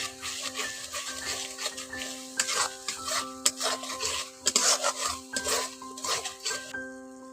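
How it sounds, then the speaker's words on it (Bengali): Spices and salt are sautéed and stirred in a pan, making close, continuous scraping and rubbing strokes over a sizzling base, with a faint steady tone lingering behind them. "লবণটা দিয়ে ভালো করে একটু মশলাটাকে কষে নিচ্ছি"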